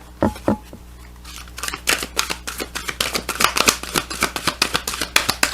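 A deck of tarot cards being shuffled up close, a fast rhythmic run of crisp riffling slaps and flutters that continues steadily for several seconds.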